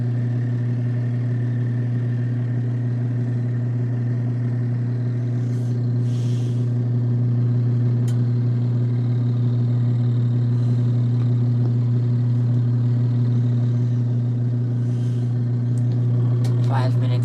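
An LG ThinQ Mega washer runs its final spin cycle on a whites load of bedding, giving a steady low mechanical hum and drone that holds evenly throughout with faint clicks and rattles, with no talk.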